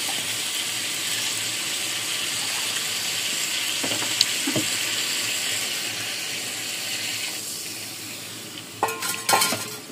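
Beef curry in mustard oil sizzles and bubbles steadily in a pan after broth is added. A spoon clatters and stirs loudly near the end.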